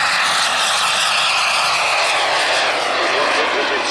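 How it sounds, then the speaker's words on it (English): An RC model Vulcan with two Merlin turbine engines of 38 pounds thrust each runs at full power, a loud steady jet roar and whine filling the air without break. "it's got 2 Merlin engines in this, of 38 pounds of thrust each"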